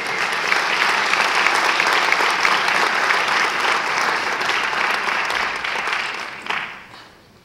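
A room full of people gives sustained applause at a Martin Luther King Jr. Legacy Award ceremony, steady, broad clapping that holds for several seconds before tapering off at the end.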